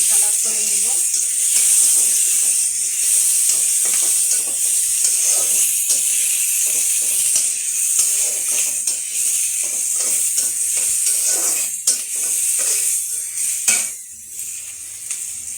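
Plenty of garlic sizzles and hisses steadily in a hot pan as it browns for a taro-leaf dish, a constant loud frying crackle with stirring scrapes and a voice speaking over it.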